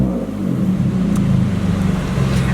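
A Mitsubishi Evo X with its 4B11 engine, now fitted with mufflers, revs loudly and close by, a deep steady drone with low harmonic rumble sustained throughout, no talking.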